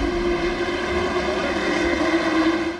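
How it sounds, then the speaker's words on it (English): IndyCar race cars at the Honda Indy produce a loud, continuous, high-pitched engine roar that stays strong and steady from start to finish. "Engines blasting, high speeds and higher volume."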